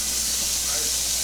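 Ground meat sizzles in a hot skillet with a steady, close, bright hiss that holds even for the whole moment without breaks.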